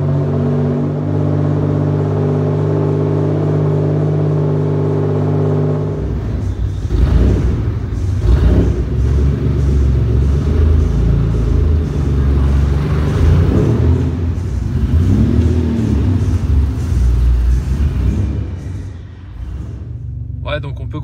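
A 1994 Maserati Ghibli with a 2.8-litre V6 biturbo engine roars and revs loudly, starting from a steady idle before rising into a rough, rumbling acceleration, with someone talking over it.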